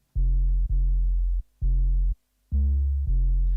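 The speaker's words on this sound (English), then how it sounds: "makes it sound less like a kick and more like just some sub bass with a load of saturation on it" Saturated 808 sub bass with a slowed 33 ms attack in a jungle track: five loud, sustained low notes in a stop-start rhythm, soft-edged rather than punchy like a kick, with no other sounds.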